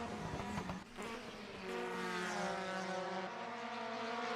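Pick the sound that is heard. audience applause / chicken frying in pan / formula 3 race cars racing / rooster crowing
formula 3 race cars racing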